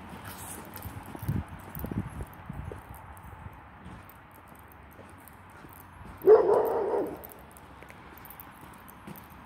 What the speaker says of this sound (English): Oh my god, I have a chasing dog.